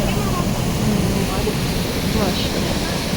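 Water rushing under pressure into an old water-powered flour mill, a dense, steady broadband roar that fills the whole clip at close range.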